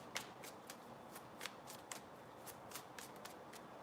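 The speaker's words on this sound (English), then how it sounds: "Let me throw down just a few extra cards." Tarot cards are shuffled and laid down one after another, giving soft papery flicks and slaps in an irregular rhythm at close range with no talking.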